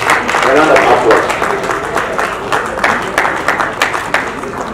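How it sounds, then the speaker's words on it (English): An audience at an award ceremony applauds a recipient, dense clapping that is loudest at the start and then eases into a steady patter. "A round of applause."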